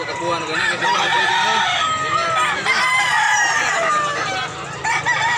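Roosters crow and chickens cluck loudly and continuously at a poultry market in Barili, Cebu, with several overlapping crows close by and a busy crowd murmuring underneath.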